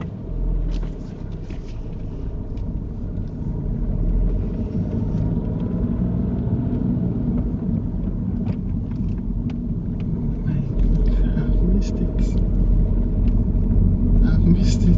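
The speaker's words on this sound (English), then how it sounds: "That's reverse gear. Let's reverse that." Car reversing in reverse gear during a driving lesson: a low, steady engine rumble heard from inside the cabin, with occasional faint clicks and soft talk over it.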